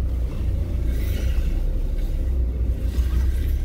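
VW Citi 1.4i hatchback on the move, a steady low engine and road rumble filling the cabin at an even level throughout, with no talking.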